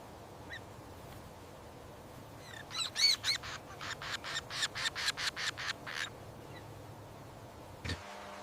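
Woodpecker chicks begging inside a nest cavity, a fast run of about a dozen rhythmic, raspy high calls that builds in loudness, with one faint call near the start and a brief one near the end.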